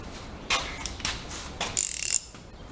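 A socket ratchet loosening a bolt during an ABS delete on a Chevy S10, with a few scattered clicks followed by a fast, sharp burst of ratcheting near the end, close and clear.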